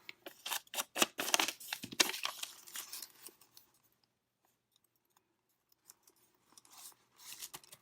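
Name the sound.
tearing paper away by hand while crafting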